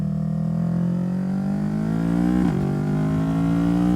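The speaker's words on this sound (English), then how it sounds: "And you can hear that quick shifter." A 2025 Yamaha YZF-R3 motorcycle engine drones steadily, and one quick-shifter gear change briefly drops the revs before the engine pulls again. It sounds close and loud, with no talk over it.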